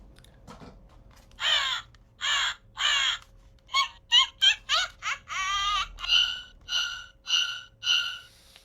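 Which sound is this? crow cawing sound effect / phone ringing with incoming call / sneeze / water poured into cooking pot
crow cawing sound effect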